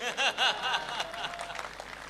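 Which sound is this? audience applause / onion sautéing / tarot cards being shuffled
audience applause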